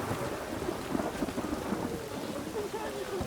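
Steady, dense rain pours through a Witcher 3 thunderstorm, with low thunder rumbling continuously beneath the downpour and no clear voices over it.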